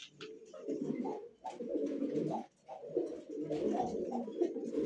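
Pigeons coo in repeated low, throaty bursts, close and fairly steady, with a couple of brief pauses between phrases and no talking.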